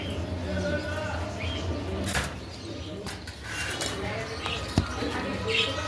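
Blue bar Mondain pigeons at a home pigeon farm coo softly with brief wing flaps and clatter, close by, while someone talks over them.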